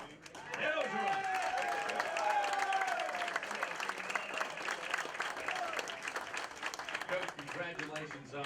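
A studio audience at an LSU Sports show applauds and cheers throughout as the LSU head football coach arrives, a dense, steady wash of clapping that fades slightly toward the end, with a host talking over it.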